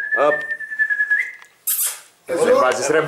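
A person whistles a long sustained note, with a short burst of breathy noise and then a voice speaking afterward.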